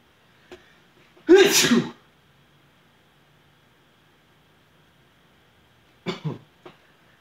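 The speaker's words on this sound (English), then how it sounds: "Was it the infamous one sneeze?" A single loud, close sneeze against quiet room hiss, followed several seconds later by a short cough-like exhale.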